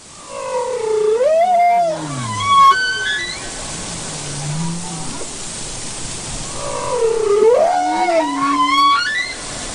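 Whale mating call recording: long, eerie tonal moans and rising whistles gliding up and down in pitch, in two drawn-out phrases over a soft watery hiss.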